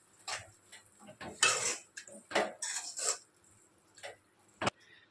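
A spoon scrapes and clinks against a pan while cabbage masala curry gravy is stirred, giving several separate metallic scraping bursts with short pauses between them, heard close up with no talking.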